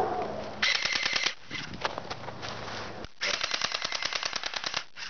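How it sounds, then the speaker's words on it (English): An UZI submachine gun fires outdoors in rapid automatic bursts: a short string, a pause, then a longer rattling burst, heard from a moderate distance. "So yeah, that's the shooting of this gun."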